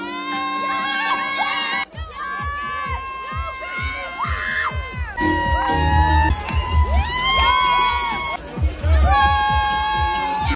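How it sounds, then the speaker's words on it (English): A crowd of Irish girls screams and cheers at a beach event on Ibiza's Ocean Beach, loud high-pitched shrieks and whoops overlapping with rhythmic music and babbling voices throughout. "All the screaming was all the Irish girls."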